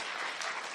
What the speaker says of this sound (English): Feel free to continue the applause to Judy afterwards